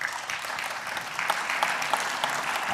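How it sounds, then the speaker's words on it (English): Audience at a constitutional law talk applauding, dense steady clapping from many hands that fills the room evenly with no voices over it. "I'm glad you clapped"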